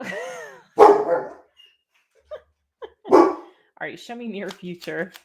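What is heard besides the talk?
dog barking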